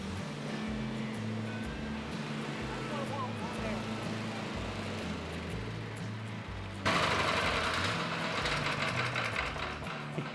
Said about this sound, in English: Push 3 times and it cranks. 1. I can hear a difference already. 2, 3, and on, and let's rip that cord.